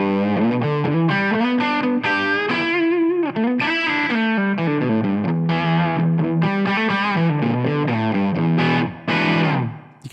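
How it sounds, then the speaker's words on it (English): An electric guitar played through a Tonex One pedal set to an overdriven tone chugs out distorted chords and riffs, loud and continuous, with no voices over it. "now we are over to a more overdriven tone."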